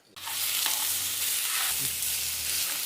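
Boiled dal is stirred into brinjal frying in a pot for sambar, a loud continuous sizzle that starts suddenly, with occasional scraping strokes of a spoon against the pan.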